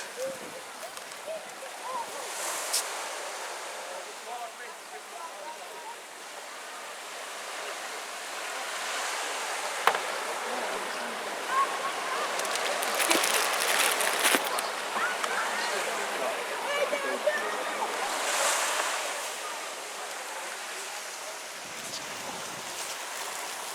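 Waves wash onto the beach at Hotel Avala in Budva, a soft, distant surf with gentle swells and light wind rumble.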